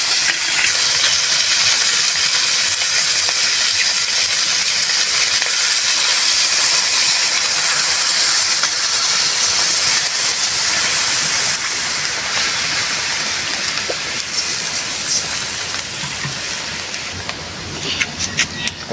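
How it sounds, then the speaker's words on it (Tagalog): Cola pours into a hot pot with browned pork leg, setting off a loud, steady hissing sizzle that carries on unbroken, tapering slightly toward the end. "Maglalagay na tayo ng ating coke."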